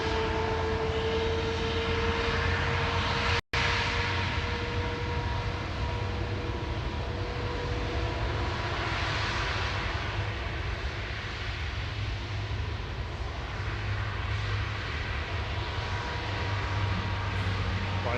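A Boeing 737 MAX 8 departs Manchester Airport, a steady roar of jet engines at moderate distance, a broad rushing drone with a faint whine, holding constant with one brief click.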